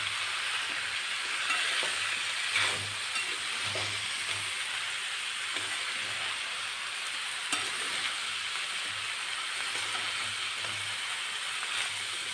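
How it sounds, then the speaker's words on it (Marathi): Mixed vegetables with red chili powder are stir-fried in a pan, giving a steady, soft sizzle and hiss with occasional faint scrapes of the spatula, continuous and moderately close. "आता लाल तिखट टाकून छान आपल्याला हे सगळं परतून घ्यायचं."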